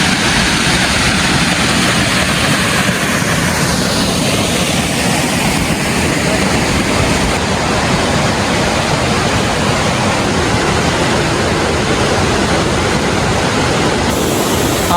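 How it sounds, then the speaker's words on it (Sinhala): Waterfall in Ella, Sri Lanka, with water pouring down over rock, giving a loud, steady, close-up roar that runs without a break and has no voices over it. "ඉතින් මම මේ ඉන්නේ අපිට හම්බෙන පළවෙනි දියැල ළඟ"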